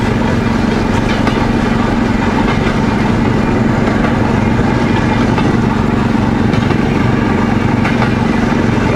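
Narrow-gauge diesel locomotive with a wagon on the Alapaevsk line, a steady droning engine rumble with a constant hum, loud and close, unchanging throughout with no talk.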